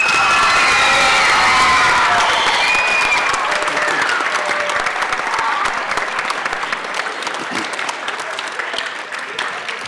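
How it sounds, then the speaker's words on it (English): Audience of middle school students at a youth leadership conference bursts into loud applause with scattered cheers and shouts, clapping strong at first then gradually thinning and fading. "Please, one more time, a huge round of applause."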